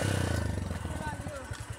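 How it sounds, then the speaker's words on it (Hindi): Motorcycle engine running close by as the bike is ridden, a low throbbing drone with uneven pulses and a few thuds, while people talk over it. "इधर अब ये लोग बैठ के ड्राइव है बाइक चलाने लगी"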